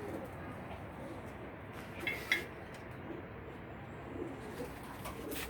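Pigeons coo softly in a loft with newly arrived birds, a faint steady murmur under low background noise and a couple of brief sharper calls.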